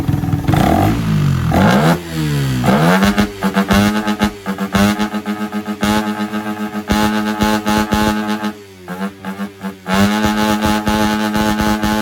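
A motorcycle with a ram-air intake revs hard and close, the engine swinging up and down in pitch through repeated throttle blips, with brief dips between rising pulls, loud and alone throughout.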